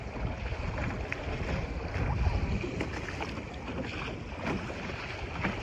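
A Sunfish sailboat sailing upriver on a breezy river, with a steady wash of water along the hull and wind rushing past, continuous and moderately loud, with no voices.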